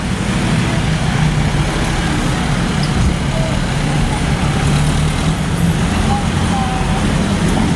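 Noisy jeepney engine running on a road, a loud, continuous low rumble with steady traffic noise around it, close and unbroken throughout.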